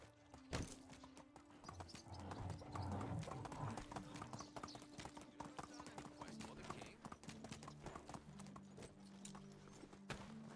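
Horse hooves clip-clop while riding in Medieval Dynasty, a quick, steady stream of hoofbeats over soft game music, with a speaking voice heard now and then.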